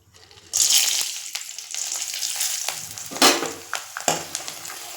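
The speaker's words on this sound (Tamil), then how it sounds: "வத்தல் பொரிஞ்சிருச்சு." Dried vathal frying in hot oil, giving a loud, close, continuous sizzle with bubbling and occasional stirring scrapes and louder spurts.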